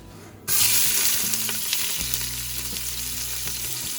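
Chopped onion tipped into meat frying in a pan for Thalassery meat rice sets off a sudden loud, close sizzle that keeps crackling steadily, with a stir partway through.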